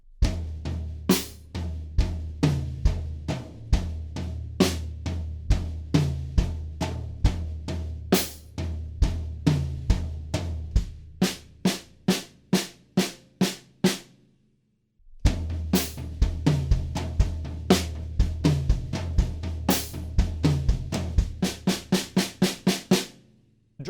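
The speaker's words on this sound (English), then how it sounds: "now we're going to move the tambourine right on the snare drum" Drum kit groove with a tambourine laid on the snare, steady punchy hits with jingling snap on each backbeat, a brief drop-out midway before the pattern returns.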